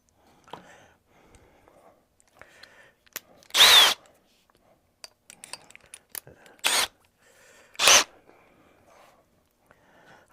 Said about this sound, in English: now I'll switch over to the bigger drill bit